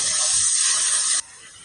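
Hairspray misted from an aerosol can, a single steady close hiss lasting about a second before cutting off abruptly, alone without speech.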